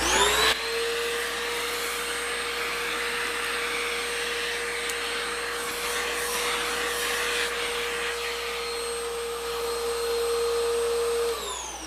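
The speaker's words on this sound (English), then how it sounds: "Move our bits out of the way so we don't vacuum them up right here" A vacuum cleaner runs steadily while cleaning chips off a workbench during a pedal board build, a loud continuous whine with a sustained high tone that starts abruptly and holds for about eleven seconds.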